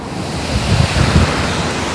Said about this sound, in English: You can probably hear the waves now.